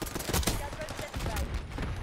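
Rapid gunfire in Call of Duty Black Ops 6, a dense fusillade of loud, close shots in quick succession, with voices underneath.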